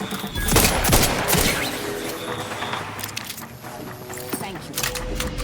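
Gunfire from a firefight in The Outer Worlds 2 video game, bursts of shots and volleys crackling through the first seconds amid mechanical game sounds, then thinning out under continuing battle noise.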